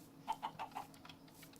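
Four quick, soft clucks from chickens in Minecraft 1.7.10, evenly spaced in a short run over faint background ambience.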